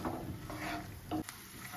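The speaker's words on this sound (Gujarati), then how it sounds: "शींगदाणाने आपणे तळी लईए।" Peanuts fry in hot oil over a low gas flame while sabudana khichdi is being made, giving a soft, steady sizzle with light stirring scrapes close by.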